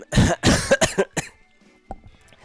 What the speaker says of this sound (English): Sorry if I'm coughing a little bit.